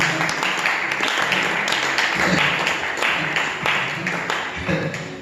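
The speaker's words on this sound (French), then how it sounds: "On acclame quand même le Seigneur." A church congregation applauding and acclaiming the Lord, continuous clapping mixed with cheers and voices, loud and close.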